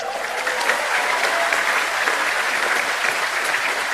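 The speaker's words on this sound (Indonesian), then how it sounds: "saya pengen minta tepuk tangan yang paling meriah kepada dua ketua umum kita" Loud, dense crowd applause at an Indonesian political party gathering for the two party chairs, a continuous roar of many hands clapping at steady volume throughout.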